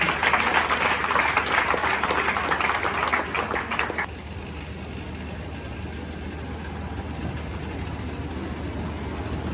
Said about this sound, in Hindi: एक बार जोरदार तालियों के साथ स्वागत कीजिए।